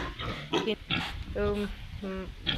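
Piglets on a pig farm give short grunts and squeals in several quick bursts, close by and moderately loud, with a few brief noisy scuffles between the calls.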